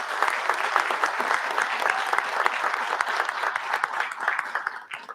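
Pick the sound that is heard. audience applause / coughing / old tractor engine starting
audience applause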